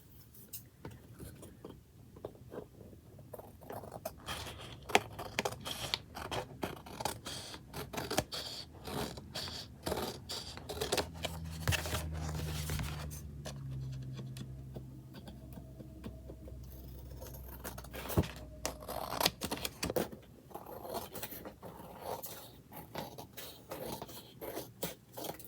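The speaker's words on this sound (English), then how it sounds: "I got to trim off these edges." Scissors trim the edges of a handmade craft page, with a long run of quiet, irregular snips, paper crinkles and light scrapes close by, and faint speech in places.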